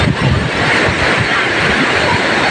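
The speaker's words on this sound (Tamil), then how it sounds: "நல்ல தண்ணி சூட்டபுளாக தான் விழுது" Water pours down the Courtallam waterfall in India at a lowish flow, making a steady, loud, broad roar that sounds like rushing surf and fills the whole clip without pause.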